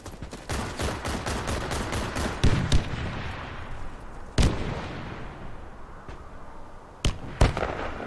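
Video game grenade explosions boom loudly, a sharp blast followed by several more bursts and decaying rumble, with crackling gunfire-like reports in the background.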